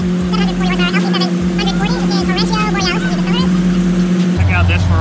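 A Lamborghini Aventador V12 supercar at a Gulfstream Park car show gives a loud, steady low engine rumble that throbs in slow pulses, with people talking over it throughout.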